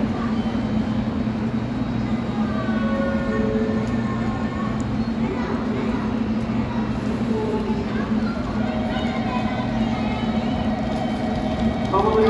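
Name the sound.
Series 783 out-of-service train departing Hakata Station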